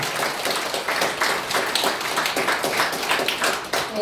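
An audience at a North Korean Freedom Week event claps in a dense, steady burst of applause, loud and sustained throughout.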